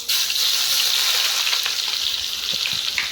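Onions frying in oil with bay leaf, dried red chilli and whole cumin, browning to a deep red: a steady, close, bright sizzle that runs throughout with a few faint scrapes near the end.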